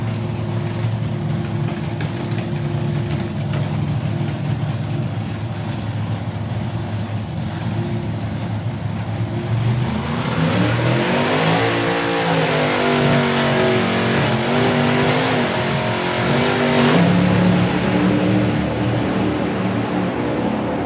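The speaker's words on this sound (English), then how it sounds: "All of the nitro filling the cylinders, drops the RPMs down a whole bunch." A nitro-fuelled drag racing car's engine rumbles loudly at the staging line at an FIA FIM event, then the pitch shifts and climbs into a harsh, roaring run as the car launches, heard from close range.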